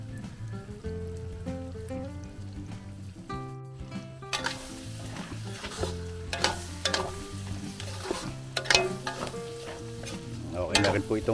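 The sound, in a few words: fish stew simmering in a pot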